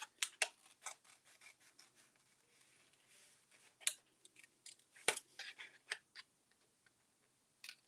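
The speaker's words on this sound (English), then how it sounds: "I'm going to cut out the parts that I'm going to paper piece" Scissors cutting paper pieces for a handmade card, a run of crisp close snips and rustling paper in irregular bursts, some sharper and louder than others, with no voices.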